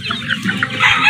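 Chick chirping outdoors on a mountain, a few quick, high cheeps over soft background chatter of other birds, brief and fairly close.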